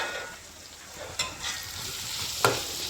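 Chopped medium onions sautéing with salt in a pan for mutton kulambu give a soft, steady sizzle, with a couple of brief stirring scrapes on top; quiet and close.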